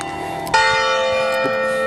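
A church bell tolls once, a clear struck tone with a long ringing hum that sustains and slowly fades, close and fairly loud with no voices.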